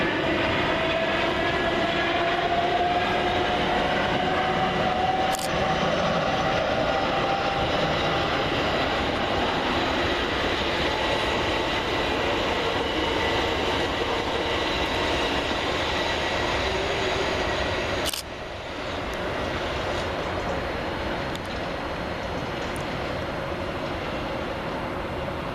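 Southern Railway passenger train, class 387 units, rolling through Gatwick Airport station, a loud continuous rumble and wheel roar throughout with a rising tonal whine early on and two sharp clanks, no talking.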